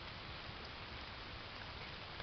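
Steady rain falls outdoors at a fishing spot, a constant even hiss of drops on surfaces that runs unbroken and fairly soft throughout, with no voices.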